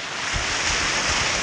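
Sea waves washing against a windy shore where boats sit beached, a steady broadband wash with gusting wind noise buffeting the microphone throughout the short stretch.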